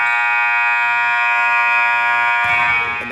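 A basketball game buzzer sounds at the end of the half, one loud sustained electronic tone lasting over two seconds, then cut off by crowd noise.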